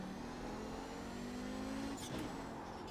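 Audi 90 GTO race car in a racing video game, its engine droning steadily close up with a brief blip of revs near the end as it shifts down into second gear for a slow corner at Interlagos.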